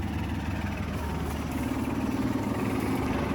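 An old tractor pulling a small square straw baler in a field hums steadily, a continuous mid-pitched engine drone with faint rhythmic mechanical thumping throughout.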